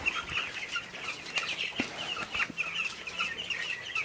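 Chickens crowded in a farm brooder under heat stress, 32 to 33 degrees, give continuous overlapping clucks and soft calls, a steady close flock chorus with a few sharper notes.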